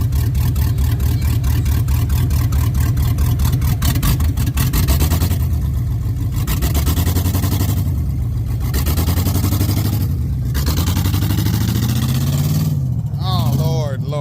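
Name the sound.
LS-swapped OBS truck engine accelerating without exhaust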